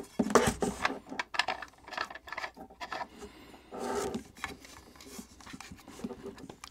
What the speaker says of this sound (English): now you can just wind your hook in all the way